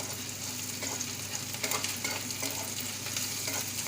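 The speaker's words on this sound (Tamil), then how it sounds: "வெங்காயம் நல்லா வதங்கி வருது பாருங்கள்" Onions with garlic sauté in a pan for palak and moong dal kadayal, giving a steady close sizzle broken by occasional stirring scrapes, with no talk.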